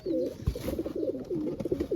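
Pigeons coo in soft, repeated low phrases close by, steady through the whole stretch, with a faint background hum and no talking.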